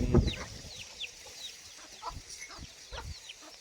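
Free-range Gavran country chickens on a farm cluck in short bursts, with a louder call at the start and scattered softer clucks following, close by and with no talk over them.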